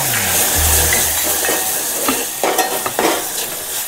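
Soy sauce poured into a hot pan with roasted chilli, ginger and garlic for cabbage Manchurian, giving a loud close sizzle with stirring scrapes and clinks of a utensil against the pan.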